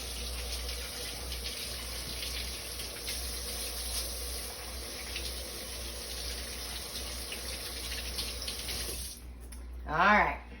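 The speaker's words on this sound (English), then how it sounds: "I'm gonna wash my hands real quick." A kitchen tap runs steadily as hands are washed under it, a continuous close splashing hiss that stops near the end, followed by a brief voice.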